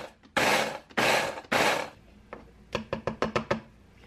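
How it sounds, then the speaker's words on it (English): Whole rolled oats are ground to flour in a food processor, with three loud whirring bursts of about half a second each, followed by a run of quick, sharp knocks and taps close by. "just putting some oats into a food processor"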